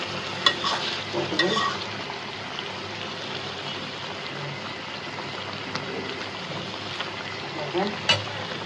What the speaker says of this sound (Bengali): এই দেখেন আমরা বরবটিটা দিয়ে দিচ্ছি মাছে, মাছ সুন্দর করে কষানো হয়ে গেছে